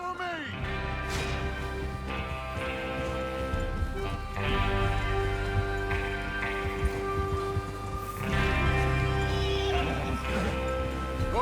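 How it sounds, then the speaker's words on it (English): Horses in the video game Red Dead Redemption 2 whinny and neigh several times over a steady clip-clop of hooves, set against ongoing game background sound. "Get your horses ready."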